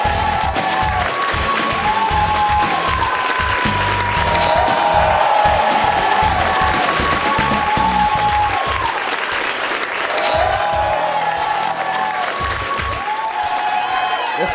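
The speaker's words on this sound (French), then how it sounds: "Donnez-vous une bonne main d'applaudissements" A comedy club crowd claps loudly and continuously for two comedians, Frank Grenier and Mike Beaudoin, with cheers, whoops and scattered shouts mixed into the dense applause from start to finish.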